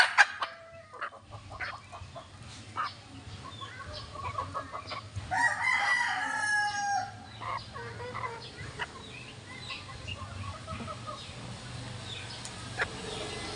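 Four-month-old chickens, including triple black and sweater pumpkin hatch gamefowl, cluck and call close by in a yard, with a rooster crowing partway through over a low background hum.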